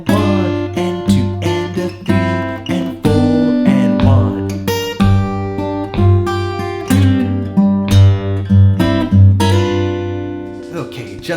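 Delta blues lick on guitar combining a thumbed bass line, rhythm chords and lead notes, played as a steady sequence of plucked, ringing strums and single notes over an insistent low bass pulse, close and loud with no talking.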